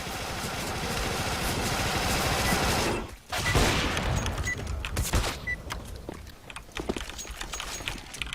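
Rapid video game gunfire from a competitive shooter, dense bursts of shots rattling continuously, a brief dip, then more scattered shots, loud and close throughout.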